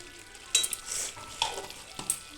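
Ghee and ground spices stirred in a frying pan for a potol chingri dish, with a soft sizzle underneath and several scraping strokes of the spatula, close and fairly quiet, with no talking.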